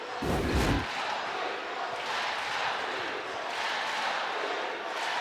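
Duke's Cameron Crazies crowd noise in the arena at an NCAA women's basketball second-round game against Oregon, a steady broad roar running throughout, with a brief low thump near the start.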